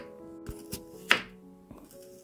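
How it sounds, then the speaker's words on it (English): A knife slices an onion into rings on a cutting board, giving a few close, crisp chopping thunks spaced irregularly, one sharper crunchy cut in the middle, in a quiet room. "When I need to make some onion rings, this is how I cut them."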